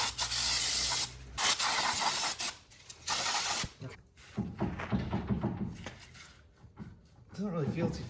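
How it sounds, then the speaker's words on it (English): Brake cleaner sprays in loud hissing bursts onto a truck's brake rotor while a gear oil leak is being fixed. A long blast and a couple of shorter ones are followed by clunks and nearby talk. "I'm gonna give it a bath of brake clean."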